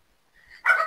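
A single sharp bark from a pet dog that has just arrived home, close and loud, preceded by a faint whine.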